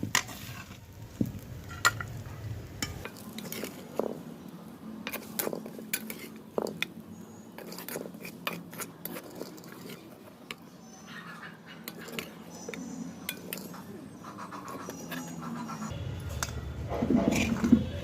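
Metal utensils scrape and clink against a pan and bowl as ivy gourd coconut fry is transferred, in a series of short, close taps and scrapes, with faint kitchen background.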